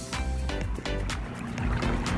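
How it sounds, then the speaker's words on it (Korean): A banana boat is towed out across the sea at Jinha beach in Ulsan. Water splashes and the towing engine churn close by in short bursts, loud and continuous. "바나나 보트 오래 버티기 하러"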